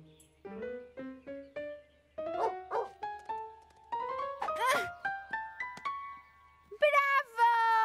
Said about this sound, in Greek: Γεια σου, σκυλάκι.